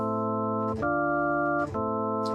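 Sustained synthesized chords in a minor key play cleanly, three held chords in succession with brief transitions between them, moderately quiet with no talking.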